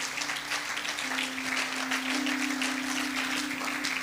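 Applause from a church congregation during a French-language sermon: a steady, dense wash of clapping fills the space from start to finish, with a sustained tone under it.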